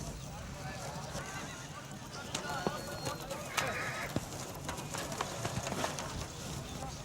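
Horses at a desert livestock fair in Rajasthan, with scattered hoof clops, a faint whinny and birds over a busy outdoor crowd murmur.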